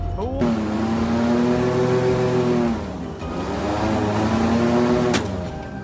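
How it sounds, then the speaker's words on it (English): A loud boat engine roars steadily in a swamp, briefly dipping in pitch and volume mid-way before surging back up, the engine droning close by throughout. "The roar of the engine sends the wild boars into a panic"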